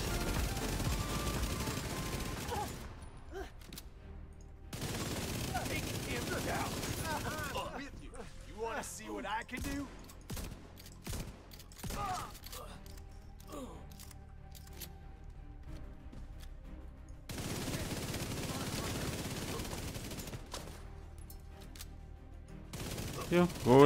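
Enemy gunfire in the shooter video game The Division 2, repeated bursts of automatic rifle fire and rapid single shots in separate volleys, mid-distance, under intermittent game sounds.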